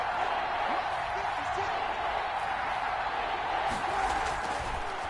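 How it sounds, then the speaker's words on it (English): Stadium crowd in an American football video game, building before a big third down: a continuous, even crowd roar and murmur hangs in the background throughout. "The crowd getting into it as we come up on a big 3rd down."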